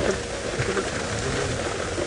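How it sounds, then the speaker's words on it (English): Steady rain pitter-patters on an open safari vehicle with its canvas flaps down during an evening game drive, a dense, even hiss of drops close by with no talking. "The rain is pitter-pattering,"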